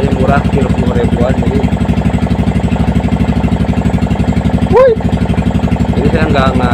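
An old-model Yamaha Vixion motorcycle engine, still cold, runs loud and close with a steady rapid chugging pulse and is briefly revved, while someone talks over it.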